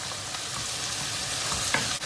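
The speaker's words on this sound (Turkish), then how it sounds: "Yemeğimiz kaynamaya başladı." An eggplant dish fries and bubbles in a pot, a steady close sizzle with faint stirring clinks and a brief scrape near the end, no voices.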